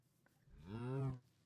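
A single cow moo from the Stoneblock 4 video game, rising into a drawn-out harmonic low call of about half a second, then stopping abruptly. Nothing else is heard around it.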